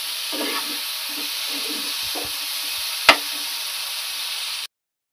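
A spoon stirs lau chingri, bottle gourd with shrimp, in a sizzling pan. It scrapes and knocks softly several times over a steady fry hiss, with one sharp clack, before the sound cuts out.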